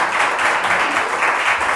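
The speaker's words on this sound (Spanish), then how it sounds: "Denle un fuerte aplauso," An audience at a Mexicali talk on Orson Welles's films claps for a speaker, a brief, steady patter of applause that fills the room at moderate volume.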